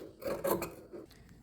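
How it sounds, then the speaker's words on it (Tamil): Scissors trim the raw fabric edge of a French seam with a brief, faint, close-up rasping snip. "இந்த ரோ எட்ஜ் கொஞ்சம் கட் பண்ணலாம்."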